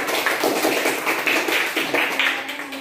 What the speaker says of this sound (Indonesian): Perwakilan kelompok tabligh silakan tepuk tangan dulu di kelompok tabligh ya.